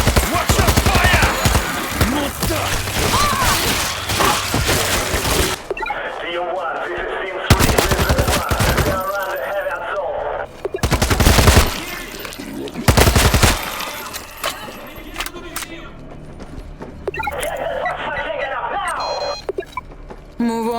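Rapid bursts of gunfire and machine-gun fire in the zombie survival shooter World War Z, loud and repeated in sharp clusters, with voices talking between and over the shots.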